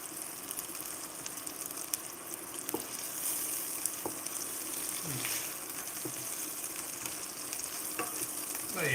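Meatballs browning in a preheated stainless pan for spaghetti and meatballs, giving a soft, steady sizzle with a few faint clicks and scrapes. The sound is fairly quiet and continuous, and no one speaks.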